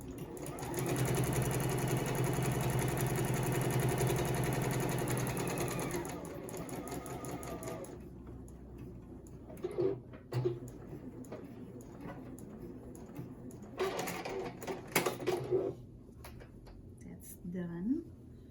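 A home sewing machine runs a steady, close, buzzing stitch through a fabric face mask for several seconds, then stops, followed by handling clatter and a person talking.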